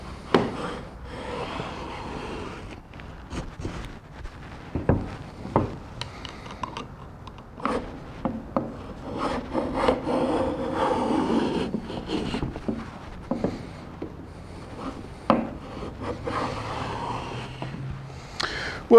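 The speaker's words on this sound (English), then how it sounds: "So I'm just cutting a groove into this, cutting it" Open-faced Bench Dog router plane with a somewhat dull blade cutting a groove into wood, irregular scraping strokes and clunks, close and fairly quiet, broken into short bursts with pauses.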